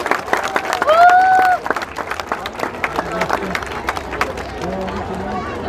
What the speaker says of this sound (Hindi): तालियां तो बजती रहनी चाहिए।